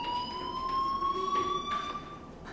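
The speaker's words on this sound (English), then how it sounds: "Hey, do you hear that fire alarm?" Fire alarm in the Life is Strange video game: a steady electronic tone with bright harmonics ringing continuously at moderate level, rising slightly in pitch, with no talk.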